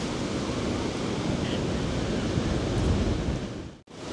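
Broadband roar of ocean surf breaking on a Florida beach, steady and loud with some wind buffeting the microphone, no talking, cutting out briefly near the end.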